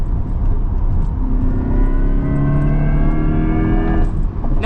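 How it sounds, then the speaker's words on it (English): 2024 Corvette E-Ray hybrid sports car accelerating hard, a loud, close engine note rising steadily in pitch over about four seconds. "And the sounds it makes on acceleration is so cool."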